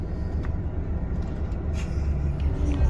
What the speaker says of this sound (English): the bus stopped right next to that area